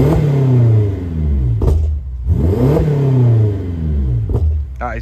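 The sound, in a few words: BMW X6M engine revving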